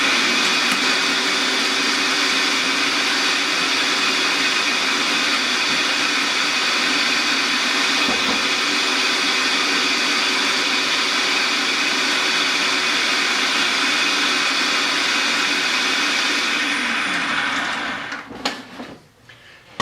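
A food processor blade minces mushrooms for duxelles with a loud, continuous motor whir that holds steady for most of the stretch, then spins down and stops near the end.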